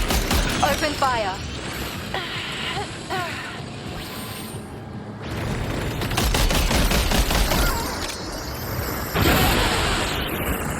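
Rapid bursts of gunfire fill a video game battle, dense and loud throughout with vehicle-like rumble underneath and a voice talking intermittently over it.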